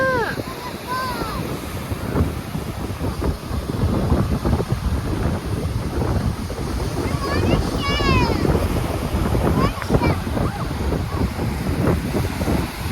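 Strong ocean waves breaking on a beach on Achill Island, Ireland, a steady loud roar of surf with heavy wind buffeting the microphone, while children and adults talk over it.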